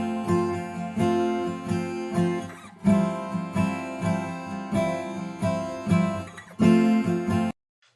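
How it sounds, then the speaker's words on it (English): Acoustic guitar strummed in a simple, steady rhythm, each chord ringing briefly before the next, close and clear, ending on a final stop. "So it's just a very simple strum."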